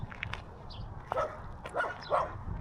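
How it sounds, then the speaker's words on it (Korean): A small dog barks repeatedly outdoors in several short yipping bursts spread across the moment, moderately close, over a low background rumble. "계속해서 멍멍거리네."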